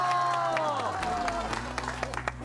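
Village residents of Napeup-ri in Aewol-eup clap together outdoors, a dense patter of applause running under a loud voice speaking throughout.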